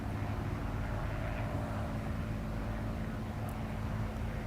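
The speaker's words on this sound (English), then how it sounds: "shoot all these planes down" Aircraft engines droning in a real-time strategy video game base attack, a steady low rumbling hum that stays constant and moderately quiet throughout.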